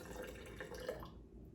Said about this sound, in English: pour in our half a cup of apple juice, or apple cider vinegar